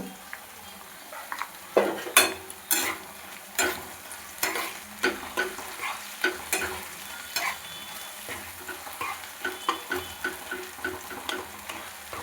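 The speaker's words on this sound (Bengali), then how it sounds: "মশলাটা একটু ভেজে নেব যাতে এর কাঁচা গন্ধটা চলে যায়" Spice paste with salt and turmeric fries in a pan, a continuous sizzle under rhythmic scraping strokes of a spatula that repeat steadily about once per second, close and clear, with no speech.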